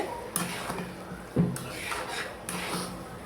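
A spoon scrapes and clinks against a pot while a chutney of olives and tomatoes with winter date palm jaggery is stirred, giving a few sharp knocks among softer scraping.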